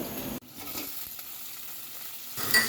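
Onion and garlic go into hot oil together and sizzle: a loud burst at first, then a quieter, steady frying hiss that swells again near the end, with no talk.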